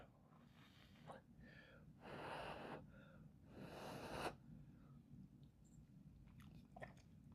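Faint, close bites and chewing of a rehydrated freeze-dried turkey noodle military meal, with soft crunchy bursts and breathy mouth sounds between chews.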